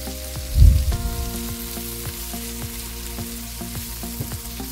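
Onion sautéing in melted margarine in a pan, a close steady sizzle with a louder burst of crackle near the start as the onion goes in, then a continuous even frying hiss.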